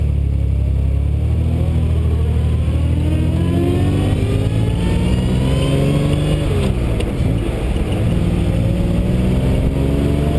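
A 1967 Austin Healey 3000 pulls away on the road, its engine note rising steadily as it accelerates, loud and continuous from inside the car with no talking.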